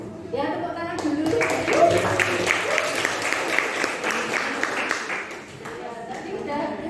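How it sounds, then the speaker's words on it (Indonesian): Lecture-hall audience in a public health evaluation class breaks into steady, dense applause lasting several seconds, loud and close, with voices murmuring underneath. "tepuk tangan dulu."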